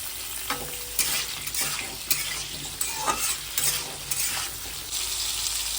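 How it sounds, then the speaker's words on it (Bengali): Potatoes fry in a pan after whole spices go into the oil, a steady sizzle broken by repeated scraping stir strokes at a close, moderate level with no talking. "ফোড়নটা দিয়ে দিচ্ছি, আলুটা ভেজে নেব"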